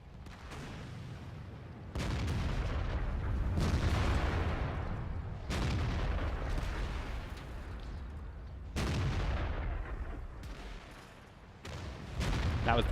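Artillery fire in World of Tanks: several heavy booming shots a few seconds apart, each with a long rumbling tail, loud over a low background.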